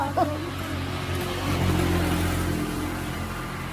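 A motorcycle engine runs steadily up close, a continuous mid-pitched hum with slight revving swells throughout.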